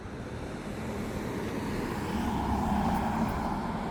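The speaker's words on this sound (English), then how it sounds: "I'm gonna let this car go on by." A car passes on a roadside street while a pedestrian waits at a push-button crossing, a broad whooshing rush of tires and engine that swells toward the middle and fades, with wind noise throughout.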